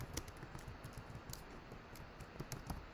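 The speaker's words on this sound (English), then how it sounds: "Let me type this." Someone types on a computer keyboard, with irregular clusters of soft, close key clicks and brief pauses between bursts over a quiet background.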